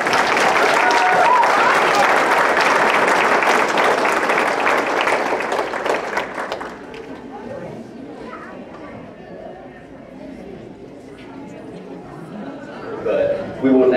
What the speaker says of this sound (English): Give a round of applause to each of our contestants.